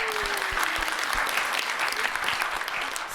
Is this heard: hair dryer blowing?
no